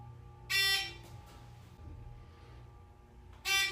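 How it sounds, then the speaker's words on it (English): A loud, obnoxious elevator next-floor chime rings out in two bright bursts, one near the start and another at the very end, with a low hum of the car between them. "no other elevator has a more annoying next floor sound effect than the one I'm in right now"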